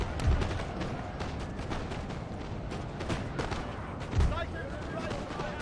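Booming cannon shots go off in a Napoleon: Total War video game battle, two heavy thumps standing out over a constant din of distant gunfire and clatter.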